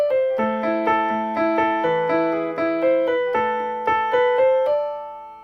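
A melodic guitar phrase from Beethoven's Für Elise, plucked single notes ringing out in a steady flowing rhythm, clear and close, with no voices.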